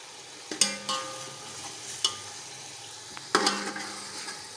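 Masala with added yogurt fries in a pan while being stirred, a soft steady sizzle broken by several sharp scraping and clanking strokes of a spatula against the pan.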